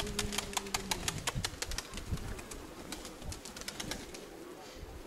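Pigeons at a keeper's loft: a rapid volley of wing claps and flapping, close and loud, with soft cooing and rustling underneath.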